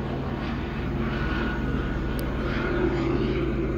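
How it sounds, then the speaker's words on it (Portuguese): A helicopter flies somewhere overhead outside, its steady droning engine hum continuous and moderately distant, with no break in the sound. "agora tem até helicóptero ali"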